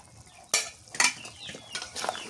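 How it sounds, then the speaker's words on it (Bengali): Eggs go into a pan of sautéed cauliflower curry, heard as sharp clinks and scrapes of a utensil against the pan with soft stirring between, close and fairly loud, a few distinct hits over a couple of seconds. "ফুলকপি কষানো হয়ে গেছে, এবার হচ্ছে ডিম দিয়ে দিই।"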